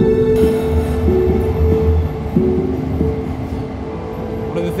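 Inside a moving Polish train, a steady loud rumble of wheels and carriage noise carries on throughout, with faint rhythmic clicks and a constant low hum.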